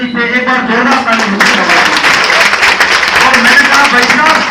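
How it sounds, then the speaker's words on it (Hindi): An audience at a meeting claps loudly and continuously, a thick crowd applause that swells after a voice and holds strong throughout with some voices mixed in. "एक बार जोरदार ताली"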